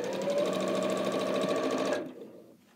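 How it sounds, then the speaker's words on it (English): A sewing machine runs at an even speed, its rapid motor whir and needle clatter close and steady, then it stops abruptly and the sound fades out. "I don't fall asleep here at the sewing machine"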